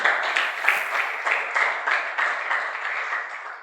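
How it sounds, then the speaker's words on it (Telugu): A church congregation claps together in praise of God, keeping a steady rhythmic beat of crisp, fairly close hand claps with no voices over them. "చప్పట్లు కొట్టి దేవుని నామమును మహింపరుద్దాం"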